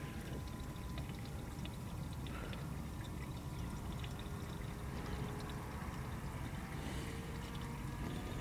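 Gasoline flowing through a jiggle siphon hose out of an outboard motor fuel tank, a faint, continuous trickling pour with occasional drips and no talking.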